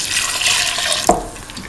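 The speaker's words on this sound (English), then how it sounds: "Pour in 250 ml of coconut milk." Coconut milk is poured into a pan with snake gourd, giving a short liquid splash and gurgle close by against a quiet background.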